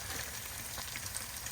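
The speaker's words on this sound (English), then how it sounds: "Look at that cheese frying up." Cheese frying in a pan at a breakfast cook-up in camp, a steady close sizzle and crackle that carries on without a break and with no voices over it.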